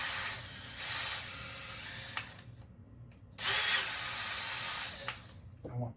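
A power drill bores holes for pins in a tight-fitting part of a large foam-dart blaster build, two whining bursts of about two seconds each, close and loud, with quiet gaps and a faint clunk between.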